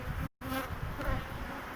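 Bees buzz in a dense, steady drone, close and continuous apart from a brief cut, with no voices.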